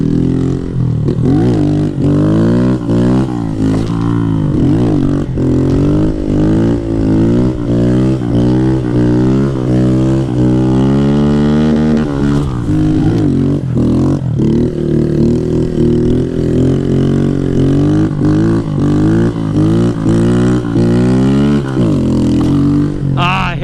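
A Honda Grom motorcycle on off-road tires revs hard during a wheelie test on pavement. The loud, close engine climbs and drops in pitch through repeated throttle pulls and gear changes.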